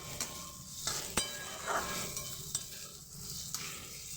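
Chopped onions frying in a pan for a prawn curry, sizzling softly and steadily, with a few sharp clinks as a utensil stirs and knocks against the pan.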